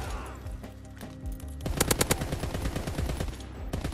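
Rapid bursts of automatic machine gun fire from the LAD machine gun in Call of Duty WW2, loud and close, with a quieter stretch before the sustained rattling volleys.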